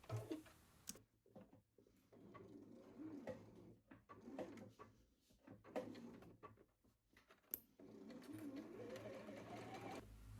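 A sewing machine stitches a dress seam down to the hem, a quiet, faint series of short whirring runs broken by pauses and small clicks, with a louder stitching stretch near the end.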